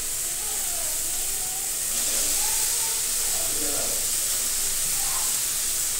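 Fish goes into a pan of frying spice masala, and a steady sizzling hiss swells slightly louder once the fish lands, then crackles on evenly and close.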